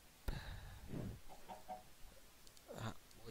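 Chickens cluck in a farm video game, with a few short squawking calls at about one second and near the end, fairly close and alone with no talking.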